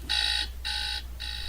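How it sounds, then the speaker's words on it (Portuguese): An alarm sounding in an audio story: three evenly spaced electronic beep pulses, clear and steady over a low hum. "ouvi uma sirene. Um som que nunca havia escutado estes anos todos."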